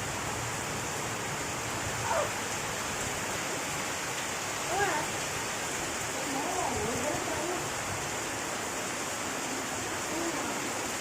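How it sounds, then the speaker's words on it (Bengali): Heavy torrential monsoon rain pours down outdoors as a dense, steady roar of water with no pauses. Faint voices can be heard beneath it. "দেখো মুষলধারে বৃষ্টি হচ্ছে ভীষণ জোরে"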